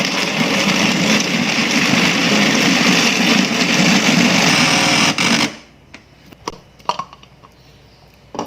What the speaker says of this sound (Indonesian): Sekarang ini akan saya blender.